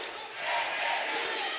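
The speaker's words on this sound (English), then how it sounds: "Crowd chanting NAU." Crowd noise swells and holds at a volleyball match, an NAU Lumberjacks home crowd chanting "NAU" during a set point against Florida, a dense, steady roar from many voices.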